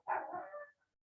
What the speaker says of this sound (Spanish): Mi perro va a empezar a tratar de aullar.